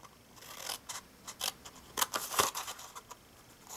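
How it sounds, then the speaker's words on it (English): Faint snipping and rubbing of scissors cutting paper for a craft gift box, a handful of short soft cuts spaced irregularly over a quiet background. "Cut down here"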